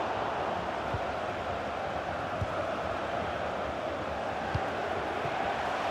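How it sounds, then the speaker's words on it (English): Stadium crowd noise from an FC 24 football match, a steady broad roar of spectators urging a player to shoot, sustained and fairly distant with faint sharp accents. "The crowd urging him to shoot"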